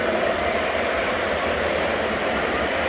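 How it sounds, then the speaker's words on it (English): Loud, steady rumble and rattle of a train rolling past, constant and close throughout, with no talking. "Let the trains go by here for a little bit"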